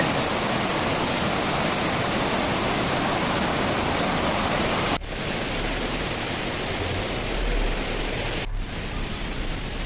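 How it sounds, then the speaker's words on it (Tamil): A loud, continuous roar of Beema Falls in the Javadhu Hills fills the scene, steady and dense, with a couple of brief dips in the rush. "இங்கே வந்து இங்கே அருவியாக கொட்டுது"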